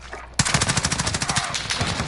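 A rapid burst of automatic gunfire from Call of Duty Modern Warfare, steady close shots in quick succession after a brief quiet start.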